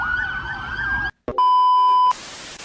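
A siren wails loud and close in a steady tone, breaks off briefly, then comes back as a flat electronic tone before fading into hiss, as a police car passes in an area crowded with police.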